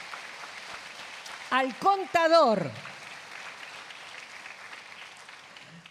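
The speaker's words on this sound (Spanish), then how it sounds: "démosle un aplauso" A church congregation applauds in steady, fairly faint clapping that fills the room throughout, while a voice briefly calls out in the middle.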